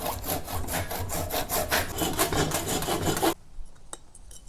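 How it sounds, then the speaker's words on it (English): Drilling into the wooden handle of an old, rusty axe to free the head, a steady rasping bite of the bit through wood that runs for several seconds and then stops abruptly, followed by faint scattered knocks. "I'm gonna drill the wood. Basically drill it all out from the top."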